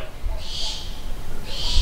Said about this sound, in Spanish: ¿Ustedes son las lechuzas?